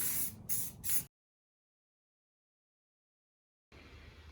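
Three short, loud hissing bursts of an aerosol can spray royal blue paint onto a side table, then a long silence before a fainter continuous hiss resumes.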